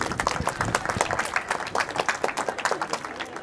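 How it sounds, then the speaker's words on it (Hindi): Audience clapping at a college foundation day event, a loud rhythmic burst of many hands sustained for several seconds, heard alone. "जोरदार ताली हे जाय"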